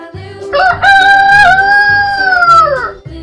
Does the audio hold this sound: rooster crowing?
yes